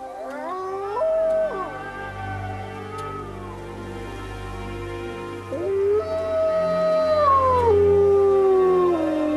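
Wolves howl at night, several long, sliding wails overlapping and rising and falling in pitch, fairly close and clear over a low, quiet background.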